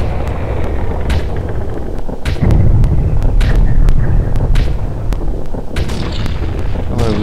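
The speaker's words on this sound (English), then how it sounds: "Look at all the fireworks." Fireworks in the video game Majora's Mask, a series of sharp cracks and booms popping at irregular intervals over a dense rumbling game background.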